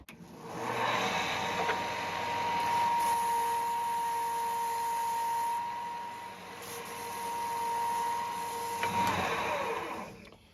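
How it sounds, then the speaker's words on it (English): A power grinder works down the handle of a laminated bow, holding a steady, loud whine for about eight seconds that dips briefly midway before cutting off. "we're just going to keep grinding this down until we meet our top edge"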